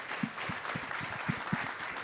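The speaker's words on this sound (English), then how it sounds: "I want to give these panelists a big round of applause" Audience at a Denver summit panel gives a round of applause, scattered hand claps with a few sharp, distinct strikes standing out over a softer crowd wash.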